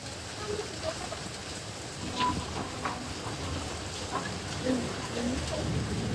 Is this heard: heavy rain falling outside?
yes